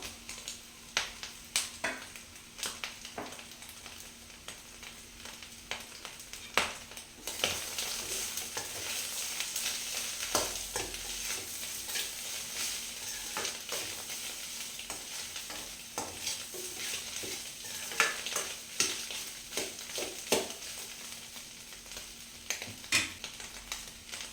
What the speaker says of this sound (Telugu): ఇలా ఎగ్ మొత్తం బాగా ఫ్రై అయింది కదా అండి